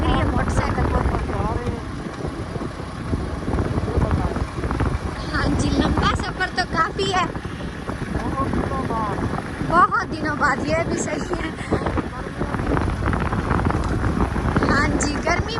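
Steady wind roar buffets a motorcycle travelling a long road on a hot, sunny day, constant and close, with a man and others chatting over the rushing noise.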